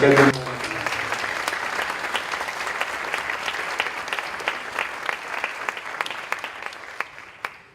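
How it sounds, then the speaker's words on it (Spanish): An audience at an international summit panel of environmental prosecutors applauds, the clapping starting loud right after a voice, then holding steady for several seconds before slowly thinning out. "pediría un aplauso para ellos"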